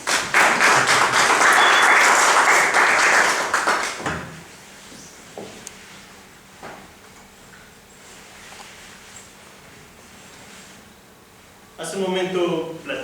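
Audience applause at a polygraph demonstration, a dense burst of clapping for about four seconds that stops abruptly, followed by quiet room sound, a few faint knocks and a short spoken voice near the end.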